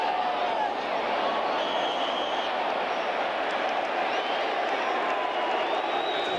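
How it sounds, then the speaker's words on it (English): Large crowd noise fills a football stadium during a Raiders at Lions Monday night game, a steady dense roar of booing with no break, heard from within the stands. "Oh, they're booing"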